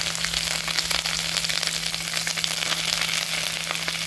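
Gram flour fries in oil with ginger paste, giving a dense, continuous sizzle and crackle close by, with a faint steady hum underneath.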